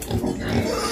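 Pigs, one of two wild boars kept on a Vietnamese home garden farm, squeal and grunt insistently as they beg for food, a short loud burst close by.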